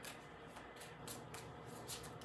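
A deck of tarot cards is shuffled in quick, soft riffling bursts, faint and close, with no talk over it.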